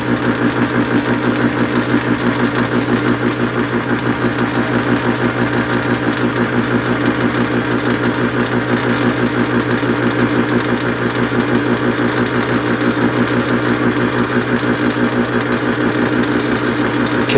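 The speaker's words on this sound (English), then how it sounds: "start cutting with the corner of the dovetail cutter into that bottom face" On a Warco lathe, a dovetail cutter conventionally mills a steel bottom face with cutting oil applied, producing a continuous, loud, even mechanical hum with a fine rhythmic pulsing that holds steady from start to finish, with no talking.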